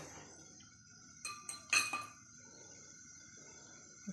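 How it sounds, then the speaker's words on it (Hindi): A spoon clinks against a metal pot as custard is stirred, giving a few bright metallic taps in a short cluster amid faint background hum. "अब चम्मच की मदद से इसको हिलाते जाएंगे"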